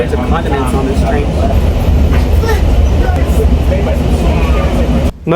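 Onboard the Amtrak California Zephyr crossing the US, a steady, loud rumble of the moving train rolls on continuously while people talk nearby. The sound briefly drops away just before the end.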